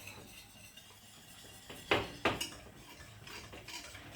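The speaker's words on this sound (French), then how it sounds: "Et mélanger le lait, la farine et le beurre." Utensils stirring milk, flour and butter into a béchamel in a pan, with soft scraping and two sharp clinks of metal against the pot near the middle.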